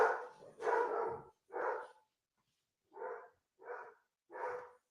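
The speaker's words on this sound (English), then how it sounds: "Oh no, my dog." A golden doodle barks in a series of six loud, close barks, the first two run together and the later ones spaced apart with short silences between.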